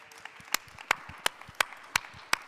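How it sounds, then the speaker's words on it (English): Sparse, scattered claps from a small panel-discussion audience at a chefs' congress, about seven distinct hand claps spaced irregularly, fairly faint and close with no talk. "Can I get another applause for that?"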